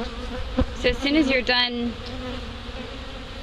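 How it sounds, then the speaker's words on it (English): Bees buzz around opened hive boxes during propolis collection, a short burst of close, wavering insect drone under a voice. "I noticed that you have a nice amount of bees on you"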